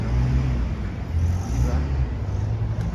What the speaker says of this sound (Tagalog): Mga sasakyan na ito lahat.